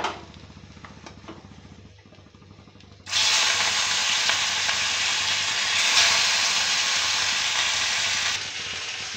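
Fish frying in a pan for a fish-and-mango dish starts with a quiet low rumble, then after about three seconds breaks into a loud continuous sizzle that holds steady before easing slightly near the end.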